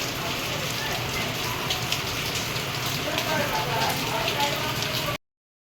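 Rain pours steadily at night, a constant close wash of drops hitting surfaces at an even level before cutting off abruptly near the end; nobody speaks.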